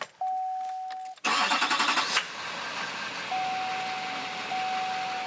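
A diesel engine with fuel conditioner in the tank cranks briefly, catches and settles into a steady idle, loud and close, with a faint whine running under it.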